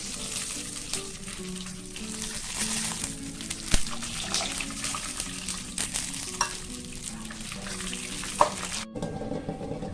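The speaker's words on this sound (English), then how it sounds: "we are going to drain this up using a sieve" Water from cooking preserved radish pours and splashes steadily through a sieve into a sink, with occasional metallic clinks and clatter nearby.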